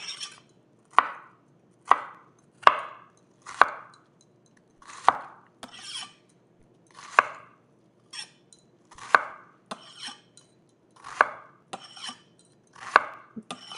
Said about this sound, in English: slice through this